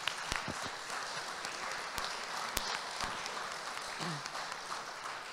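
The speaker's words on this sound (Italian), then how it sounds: "io farei un applauso a loro perché sono stati veramente bravi" Audience applause at a Lambrusco wine masterclass during a national sommelier congress, a steady wash of many hands clapping at moderate level throughout, with a few sharper individual claps standing out.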